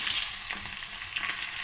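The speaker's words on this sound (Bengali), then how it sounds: "রসুন দিয়ে দিচ্ছি" Garlic sizzles in hot oil in a wok along with bay leaf and cardamom, a soft continuous hiss of frying with faint stirring, heard alone.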